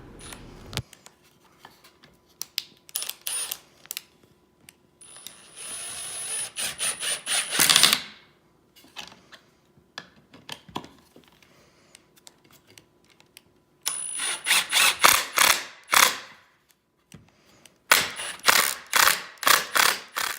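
A drill drives 2.5-inch pocket hole screws into wooden pieces for a farmhouse table. It comes as several close, loud bursts of whirring and ratcheting separated by short pauses, with no talking.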